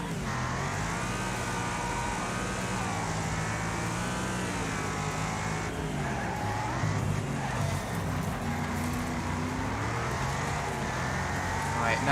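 A Deuce Coupe hot rod engine in the racing game Wreckfest roars steadily throughout, its pitch rising and falling with gear shifts, with tire skids and other cars in the pack close by.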